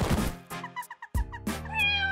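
A cartoon kitty meows in a few short, tonal cries separated by brief pauses, clear and close with no talk over them.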